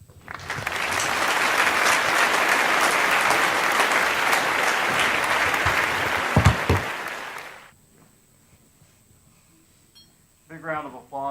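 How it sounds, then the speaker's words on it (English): Audience applause at an awards ceremony, a loud, full burst of many hands clapping for several seconds before cutting off to near silence, then a voice begins speaking. "Big round of applause for Apple."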